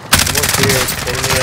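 Rapid automatic gunfire in Call of Duty Modern Warfare (2019), loud close bursts of shots fired in quick succession with a faint tonal effect underneath.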